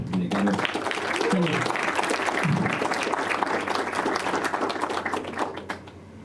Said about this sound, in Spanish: Y un aplauso para Caro Pérez en el sonido, por favor.